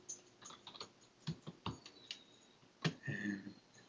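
A command is typed on a computer keyboard in a quiet room: a few scattered close key clicks, then a firmer keystroke near the end, like pressing enter.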